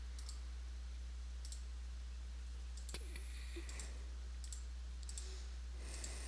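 Mouse clicking during an online game from a boredom website: sparse, crisp single clicks scattered every second or so, quiet and close over a steady low electrical hum, with no talk.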